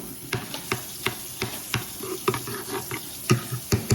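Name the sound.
mixing Hennessy wing sauce ingredients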